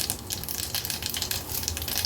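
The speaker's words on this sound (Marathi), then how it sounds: "आता फोडणीला आपण अर्धा चमचा राई घालूया, अर्धा चमचा जिरं, थोडंसं हिंग घालते" Mustard seeds, cumin and asafoetida sizzle steadily in hot oil in a home kitchen pan, a close, continuous crackle with scattered pops throughout.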